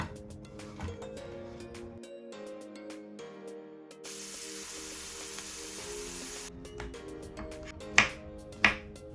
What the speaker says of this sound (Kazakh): Пиязды маймен қуырамыз.